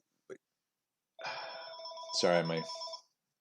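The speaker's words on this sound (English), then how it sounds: "grandmother's phone is ringing." A telephone rings with a bright, steady electronic tone for about two seconds, while a voice speaks briefly over it.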